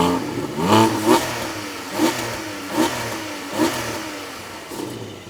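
A 2022 Porsche 718 Boxster GTS engine is revved in a series of about five sharp blips that rise and fall at a steady pace over a constant idle, close by and loud, with no talking.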